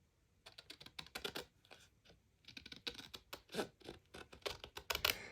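Card being cut for a gift card holder: quiet, quick clusters of crisp snipping and scratchy crunching ticks with brief pauses between runs, close and without speech.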